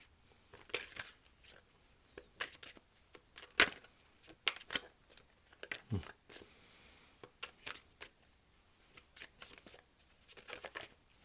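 Tarot cards being shuffled and drawn, a close, quiet series of irregular riffling snaps and flicks, with one sharper slap partway through and no talking.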